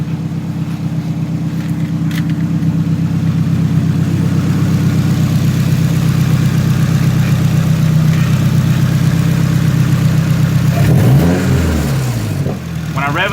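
A Nissan S14 with an SR20 engine and Tomei setup idles close by with a steady low rumble and a rattle, loud and continuous, with a brief shift in engine tone near the end.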